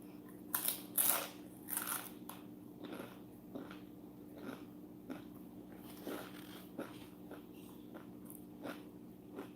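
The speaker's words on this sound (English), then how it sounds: "I hear you crunching." Someone eating crunchy food produces close, fairly faint crunches at a regular chewing rhythm, with a few sharper bites early on and steady quieter crunching afterward.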